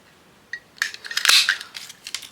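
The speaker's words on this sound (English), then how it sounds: "I'm going to cut these out like this" Scissors snip through paper pieces for a masterboard, a quick series of close, crisp cutting crunches and blade clicks in a quiet room.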